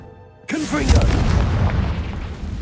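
A Confringo spell blast in Hogwarts Legacy bursts suddenly after a moment of quiet, a loud, close boom with a brief crackling whoosh that rumbles on and fades slowly.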